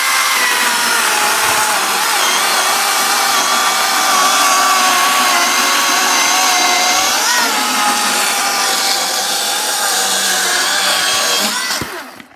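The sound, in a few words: Dong Cheng battery chainsaw cutting wood slowly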